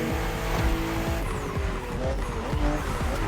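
Race cars on a narrow, twisting track in The Crew Motorfest, engines roaring loud and close with rising and falling revs and tires squealing through tight bends.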